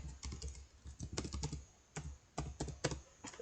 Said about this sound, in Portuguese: Eu vou digitar aqui a minha senha.